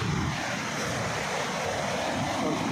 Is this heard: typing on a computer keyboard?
no